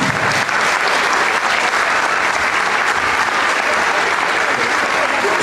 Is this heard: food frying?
no